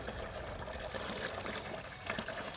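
Grape concentrate is poured into a container for home red wine making, giving a steady, soft liquid trickle and gurgle that runs continuously.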